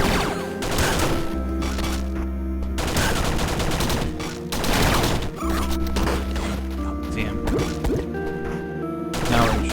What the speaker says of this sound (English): Machine gun's fine.